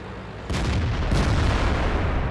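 A tank cannon fires in a tank battle game, a heavy booming shot that lands abruptly, then a second blast rolls in under continuous low rumbling battle noise.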